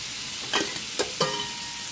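Squash and eggplant being stirred into a pot of pakbet, with three distinct scraping, clattering stir strokes over a steady background sizzle, close and fairly quiet.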